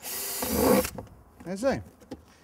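A 4 mm drill bit bores a few small holes into the ridges of a homemade worm bin, a short burst of drilling followed by a brief spoken remark nearby.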